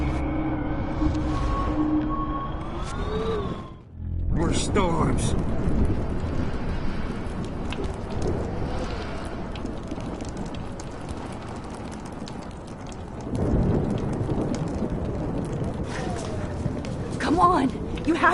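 A thunderstorm with rain in the video game Life is Strange makes a loud, dense roar of rain and wind that drops away briefly, then surges back with deep rumbling swells.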